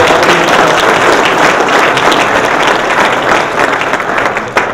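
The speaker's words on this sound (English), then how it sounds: "if we give them a round of applause" Banquet audience at a junior golf awards event applauds, a loud, dense and continuous wash of clapping from a full room that tapers slightly near the end.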